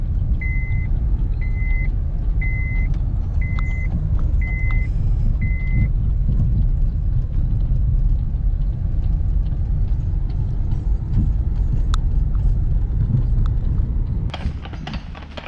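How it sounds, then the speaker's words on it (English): A skid steer loader engine drones in a steady, loud low rumble while driving, with a series of repeated reversing beeps early on and scattered clanks, on a quiet rural back road during log hauling. "bringing up the rear with the skid steer"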